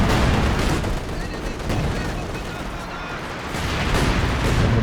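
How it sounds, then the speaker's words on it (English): A light artillery barrage in Company of Heroes 2, called in on a Maxim machine gun position: dense, continuous rumbling blasts and gunfire that swell and ease over a few seconds, loud and unbroken. "We've got a light artillery barrage, but it's called in on the Maxim."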